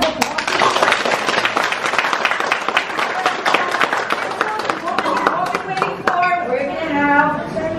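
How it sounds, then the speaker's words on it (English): Applause from an audience at a pastry and baking graduation ceremony, honouring a singer: steady dense clapping fills the clip, with voices and talk rising over it toward the end. "can we give him a big round of applause?"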